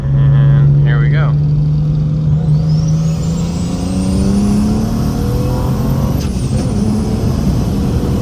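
A BMW 335i with a big single turbo and anti-lag, shifted manually, accelerates hard through a couple of gears, its loud engine note rising and then dropping with each shift, close and dominant.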